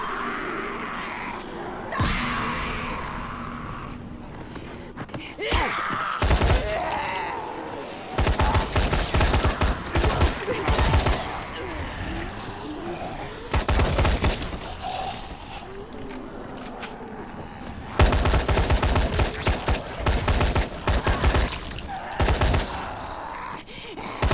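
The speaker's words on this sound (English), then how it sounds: "I have to kill him with a rifle" Rifle gunfire in the video game Dying Light comes in dense, loud bursts of rapid shots, separated by short gaps of rumbling game ambience, with a voice talking between volleys.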